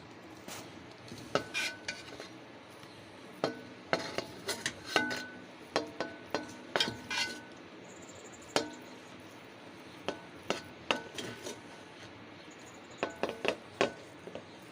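Besan halwa being scooped and served from a pan onto a plate, with repeated close metal spoon scrapes and clinks in irregular bursts and short pauses between them, no voices.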